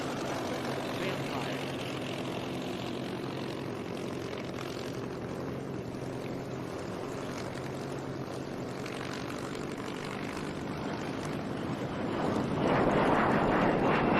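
Propeller aircraft of the Undaunted team fly at the Las Vegas Aviation Nation air show, a sustained engine drone with wind noise that swells louder near the end. A voice talks over it.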